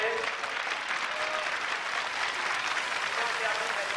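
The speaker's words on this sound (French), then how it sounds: "Laurent, on l'applaudit bien." Spectators clap steadily for a cyclist finishing the Paris-Roubaix race in 1980, a dense, continuous sheet of applause that holds evenly throughout.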